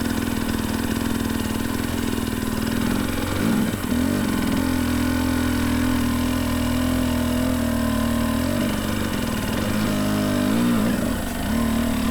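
A Husqvarna enduro motorcycle fitted with studded tyres runs on frozen ground, its engine close and loud, holding a steady idle with a few gentle rev swells and no voices.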